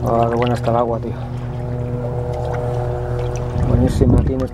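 Someone moves through sea water in a small beach cove, with sloshing and splashing under a voice that talks over it at the start and again near the end.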